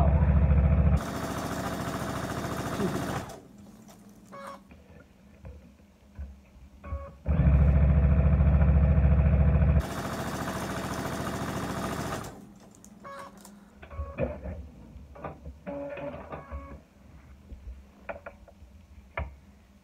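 A sewing machine stitches a jelly roll holiday quilt in two long, loud, steady runs of several seconds each, with quieter handling noises and brief pauses between them.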